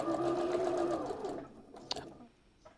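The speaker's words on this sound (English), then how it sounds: "that's really rather a quiet sewing machine." A quiet sewing machine hums and whirs steadily for about a second and a half, then stops, leaving a couple of faint clicks.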